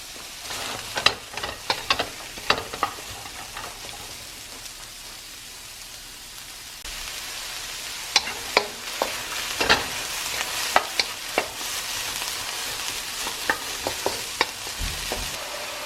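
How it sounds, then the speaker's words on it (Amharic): Sliced onion and garlic fry in a pan for Ethiopian sega tibs, a steady crackling sizzle broken by sharp pops and utensil scrapes, close and with no talking. "ሽንኩርቴ እንደዚህ ስላይስ አድርጌ የጨመርኩት ነጭ ሽንኩርት አብሮ ጠበስ ይበል"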